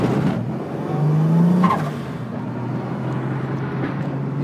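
Turbocharged RB30DET engine in a Nissan Z making 18 lbs of boost, a steady low drone nearby with a brief rising pitch in the middle, heard alone.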